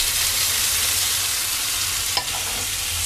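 Tomatoes going into golden fried onion masala for a paneer gravy, a steady close sizzle with one brief clink of a utensil near the end, no voices.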